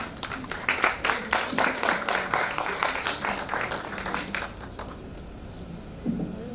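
Audience applause at an International Women's Day celebration, a dense run of hand claps that swells and holds for several seconds, then thins out and fades near the end.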